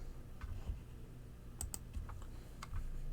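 A computer keyboard being typed on while entering a fillet radius command in AutoCAD, a few sparse close clicks and taps with short pauses between keystrokes, no talking.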